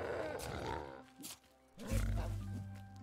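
Pigs in the video game Sengoku Dynasty give low, rough grunts, heard close and loud near the end, with someone talking over the first part.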